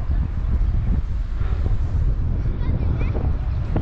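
Strong wind buffets the microphone with a constant loud low roar and gusty rumbling throughout, drowning out birds, on high ground in Qatar.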